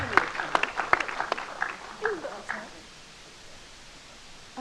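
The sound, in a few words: audience applause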